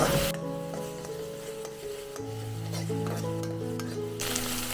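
Ginger-garlic and chili paste sautéing in a pan for a cabbage masala bhaji, giving a steady close sizzle with spoon stirring and occasional scrapes over a sustained tonal hum.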